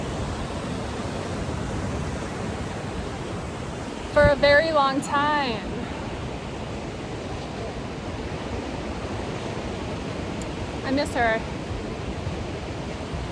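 Ocean waves crash against rocks on the Big Sur coast as a steady, loud wash of surf that runs throughout, with a voice speaking briefly over it twice.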